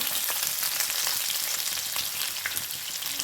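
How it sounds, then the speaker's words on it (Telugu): Onions sizzle in hot oil with mustard seeds, cumin and crushed garlic, a dense, steady crackling fry with small pops and stirring, close and continuous, with no talk. "ఇప్పుడు ఆనియన్స్ వేసుకుందాం"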